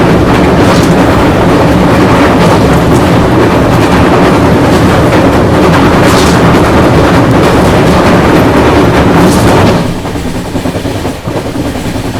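The New Tinsukia–Amritsar Express rushes past very close on the line near Jagiroad, a loud, continuous roar with rhythmic clickety-clack of wheels over rail joints, easing slightly in the final seconds.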